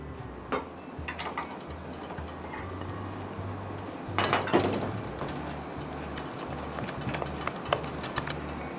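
A utensil clinks and scrapes in a bowl while mashed sweet potato is mixed with egg yolk and softened butter: irregular close taps and knocks over a steady low hum, with a louder burst of clatter midway.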